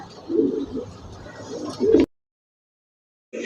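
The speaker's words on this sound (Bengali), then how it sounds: "এক জোড়া গররা কবুতর দেখাইতেছি, লাল গররা" A pair of red Gorra pigeons coo close by, two soft throaty swells about a second and a half apart, then the sound cuts to silence and resumes briefly at the end.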